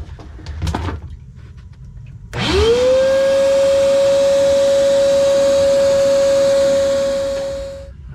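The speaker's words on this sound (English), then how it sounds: "I got my wet vac here. I'm just gonna vacuum up what I can inside there." A wet vac vacuuming water from a sump pit switches on after a brief knock and then roars steadily with a high whine, loud and close, before winding down at the end.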